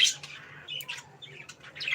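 Two hand-fed pet bird chicks give a string of shrill, scratchy squawks in quick, uneven bursts, close by and fairly faint.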